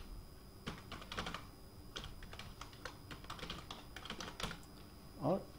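Keys tapped on a computer keyboard while user details are entered in hospital software, a light, irregular patter of clicks in quick bursts with brief pauses.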